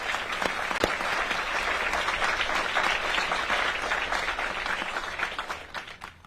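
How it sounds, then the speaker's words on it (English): Audience applause at a Native American Heritage event honouring invited guests, a steady round of many hands clapping that fades out near the end. "Please join me in giving them one more round of applause."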